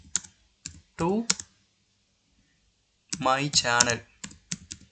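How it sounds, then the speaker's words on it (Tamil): Rapid clicks of keys typed on a computer keyboard while coding HTML, sounding between spoken phrases from a nearby man and continuing faintly at the end. "H1 டேக்குள்ளே இப்போ நம்ம வேர்டிங்ஸ் டைப் பண்ணணும்."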